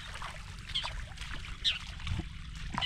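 Water is poured into the radiator of a boat engine to keep it from overheating, a soft trickling and sloshing over a low rumble of background noise, with no talk.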